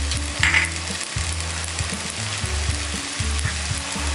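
Potatoes, onions and chopped green chillies fry in a pan with a steady close sizzle, broken by occasional stirring scrapes; no talking.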